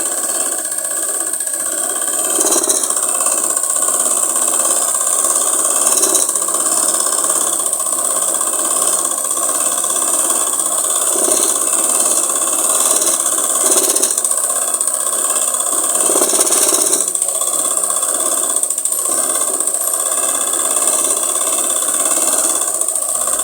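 A sewing machine runs a double line of stitching on a girl's umbrella frock, a continuous, even mechanical whir with a faint rhythmic pulse, close and steady throughout.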